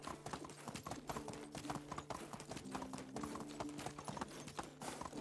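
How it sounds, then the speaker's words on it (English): Hooves clip-clop at a steady riding pace as a horse carries its rider across the countryside in the medieval village game Medieval Dynasty, an even rhythmic patter held at a quiet, moderate level. "I can easily ride my horse there."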